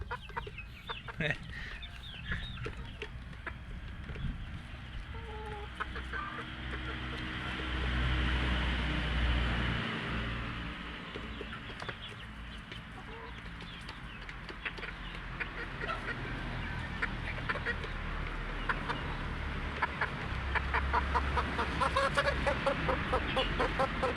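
Four-month-old Darag native chickens and roosters on a farm, steady clucking and repeated crowing calls close by, continuing throughout.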